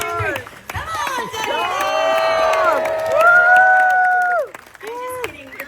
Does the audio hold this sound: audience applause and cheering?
yes